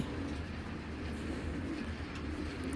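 A racing pigeon coos in a low, steady rolling murmur close by, continuous throughout, with faint background hum and no talking.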